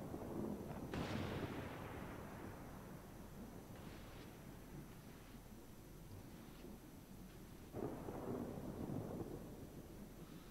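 Deep rumbling thunder from lightning striking the seabed in the video game A Memoir Blue, two booming cracks several seconds apart, each rolling off into a low sustained rumble.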